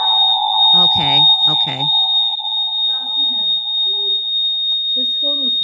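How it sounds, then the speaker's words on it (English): A phone ringing during an online class meeting sounds as a steady, high electronic tone with a lower hum running throughout, while people talk over it. "Whose phone is that?"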